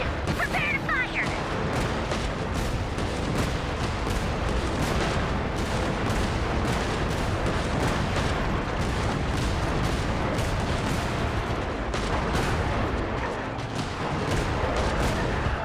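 Dense, continuous barrage of gunfire and artillery fire from a video game battle, loud and sustained throughout with crashing impacts and no pauses.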